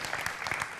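Dense audience applause for a female performer and her band on a Romanian television show, a brief burst of many hands clapping together, steady and fairly loud.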